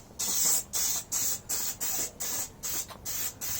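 High temperature spray adhesive hisses from an aerosol can in about nine short, regular bursts separated by brief pauses, close and clear, while a motorcycle seat is being upholstered.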